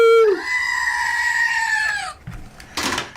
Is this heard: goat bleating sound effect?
yes